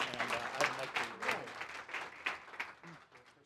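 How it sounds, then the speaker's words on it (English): Scattered clapping from a modest conference audience, uneven and fairly light, with individual claps distinguishable and some murmuring voices mixed in. "Let's give Dale a round of applause."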